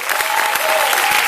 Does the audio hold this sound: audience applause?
yes